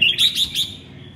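A red-whiskered bulbul sings a quick, bright series of three or four sharp, clear whistled notes, close and loud, fading out at the end.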